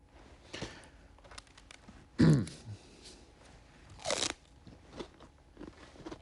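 Someone crunches into a stalk of celery, with two distinct loud, crisp bites followed by softer chewing crunches, faint and close, against a quiet background.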